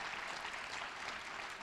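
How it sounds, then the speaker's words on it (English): An audience claps for a speaker at a Martin Luther King Jr. Day commemoration at Queens College, a steady, fairly quiet patter of many hands with no voices over it. "you can clap to her"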